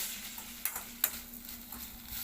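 Brinjal, tomato and green chillies frying in a pan, a faint steady sizzle with a couple of brief clinks or stirring taps, no voices.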